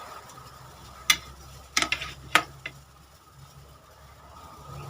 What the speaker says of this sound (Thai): เมื่อน้ำแกงเดือดแล้วนะครับ เดี๋ยวใส่ปลาลงไปเนาะ